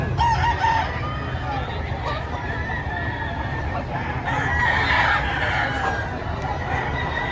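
Roosters crow and chickens cluck amid a busy crowd at a chicken market in Padre Garcia, Batangas. The calls are dense and overlapping above a constant murmur of background chatter.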